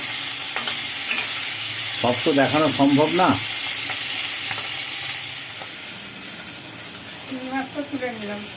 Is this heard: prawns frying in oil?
yes